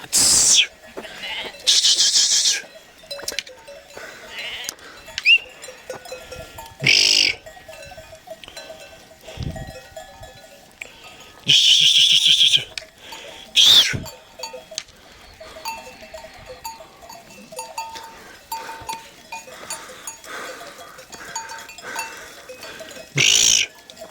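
A flock of sheep and lambs being driven to green pasture along tiring roads, with repeated bleats near and far, a cowbell-like clank, and a herder's calls urging them uphill between the animal cries.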